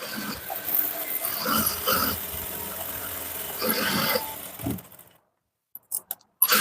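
A sewing machine stitches a halter neck blouse in short, steady runs of whirring, pausing between bursts, then falls almost silent before a few faint clicks at the end.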